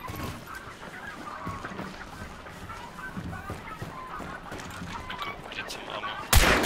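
Disturbed birds in the Hunt: Showdown video game, a burst of honking, goose-like squawks over a steady outdoor ambience, ending in a sudden loud crack near the end.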